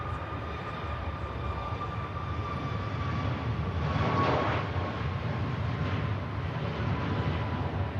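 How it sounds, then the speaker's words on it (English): A passenger jet on its departure roll at Manchester Airport, bound for Scandinavia: a steady broadband engine roar, loud and distant-to-mid range, swelling briefly near the middle with no talk over it. "There goes the flight to Scandinavia."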